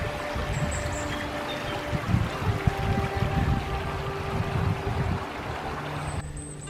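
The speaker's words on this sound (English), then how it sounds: "A lot of water running underneath this bridge." Water runs loudly beneath a bridge on a forest trail at Jefferson Memorial Forest after heavy rain, a steady close rushing gurgle with no one speaking.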